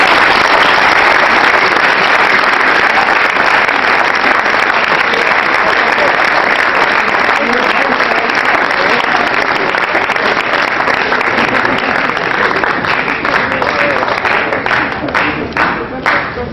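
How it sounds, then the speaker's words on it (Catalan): Sustained audience applause in a lecture hall at the end of a talk at a Catalan language symposium, a loud, dense wash of many hands clapping throughout, thinning slightly toward the end, with no speech over it. "mereix un aplaudiment"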